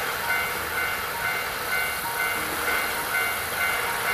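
A steady rolling rumble and hiss of a moving train in the video game Nostalgic Train, continuous and fairly loud throughout, with no voices.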